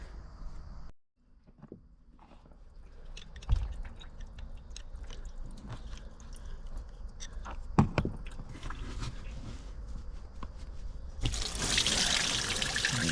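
Coolant water drains from a hose on a MerCruiser I/O boat engine being winterized, a steady close trickle and splash with a few sharper knocks and a brief louder gush near the end.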